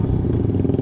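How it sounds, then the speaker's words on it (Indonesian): Suzuki Satria FU 150 motorcycle engine running close by, a steady low buzzing drone with faint clattering, continuous and fairly loud for under a second. "Berisik juga motor gua."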